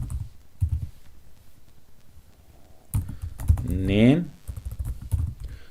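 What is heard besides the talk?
computer keyboard typing in MS Excel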